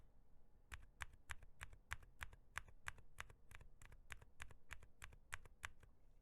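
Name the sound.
typing on keyboard with Gazzew silent tactile switches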